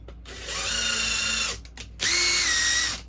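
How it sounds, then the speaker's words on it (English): A power drill whirs at high speed drilling nylon RC car kit parts for about a second, stops briefly, then spins up again for another steady, loud burst. "So we need to drill those out."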